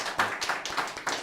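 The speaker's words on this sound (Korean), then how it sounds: "우리 박수 한번 치실까요?" A church congregation claps together during a Sunday service, a short burst of four or five rhythmic clap waves, moderately close and fairly full, with no talking over it.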